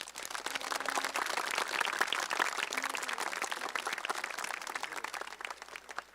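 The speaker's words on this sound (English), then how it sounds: "Please give them a round of applause." Audience applause at a high school graduation ceremony, a dense, steady wash of clapping from a large crowd that holds at an even level for several seconds without a break.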